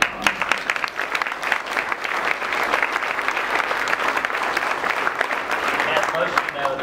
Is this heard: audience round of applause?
yes